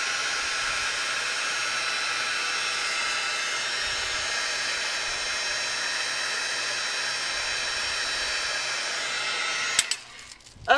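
A heat tool blows over stamped craft images on a Teflon sheet with a steady loud whooshing hiss that runs nearly ten seconds, then cuts off into a few faint clicks and handling sounds.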